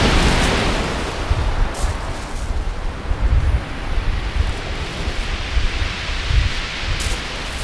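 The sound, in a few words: wind and waves on Hythe beach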